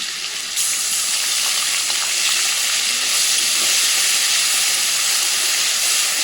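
Garlic paste hits hot oil already holding bay leaves and a dried red chilli, bursting into a loud, hissing sizzle that jumps up suddenly and then roars on steadily, close and without talk.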